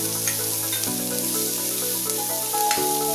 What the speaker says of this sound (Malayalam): ചെറിയൊരു കഷ്ണം ക്യാപ്സിക്കം, എല്ലാം കൂടി ഒന്ന് ഇളക്കി കൊടുക്കും